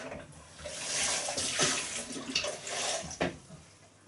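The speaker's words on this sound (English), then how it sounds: "We half fill it with water." Water pours and splashes from a tap into a winemaking container, half filling it, a steady rushing flow, close by.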